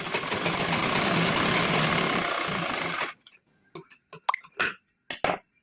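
A sewing machine runs a steady, fast whirring double stitch along a blouse seam for about three seconds, then stops, leaving a few sharp clicks and handling taps up close.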